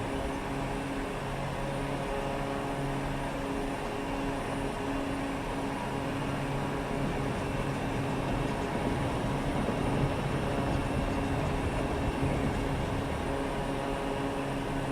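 A small aircraft powers up for takeoff from a short runway in Microsoft Flight Simulator, a steady engine drone holding loud and even throughout with no voices.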